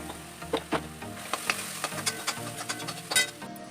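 Samosa filling of peas with turmeric, chilli powder and garam masala frying in a pan, a soft steady sizzle broken by irregular clicking scrapes of stirring, fairly close and moderately quiet.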